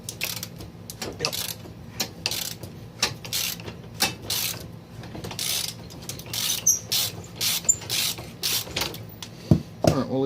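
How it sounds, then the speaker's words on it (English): A ratchet wrench worked on an ATV tie rod gives bursts of rapid close metallic clicking in repeated strokes, with short pauses between pulls. "Back to the ratchet."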